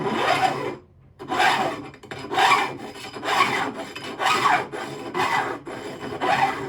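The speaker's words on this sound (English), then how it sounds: "this is just a lot of filing." Rasping file strokes on the wood of a 1950s Armin Paulus archtop guitar under restoration, loud and close in a regular rhythm of about eight long back-and-forth passes, with no speech.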